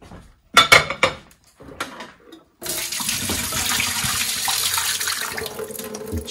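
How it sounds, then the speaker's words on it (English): Water poured off cooked broccoli into a sink to drain it, a steady loud gush following a few clinks and knocks of a pot and utensils. "I'm gonna give it a good drain."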